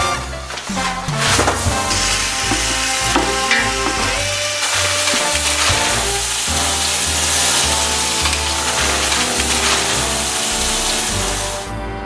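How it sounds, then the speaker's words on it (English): Onions, scallions and garlic frying in a pot, a steady loud sizzle running throughout with stirring scrapes, layered under background music. "then we're gonna add the aromatics, which would be the onions and the scallions and the garlic"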